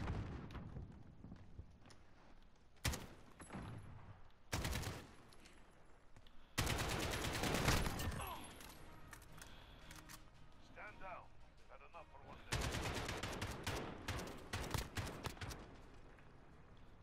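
Bursts of automatic gunfire from an Android gunfight video game, several loud volleys and single shots spread across the clip with gaps between, mixed with in-game effects while voices talk over the action.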